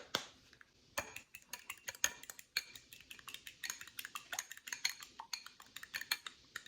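A whisk or fork beats an egg mixture spiced with cinnamon, allspice and nutmeg in a bowl, giving a quick, steady run of close metallic clinks and taps with no talking.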